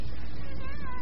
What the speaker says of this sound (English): And now your cat cries when you start having nightmares.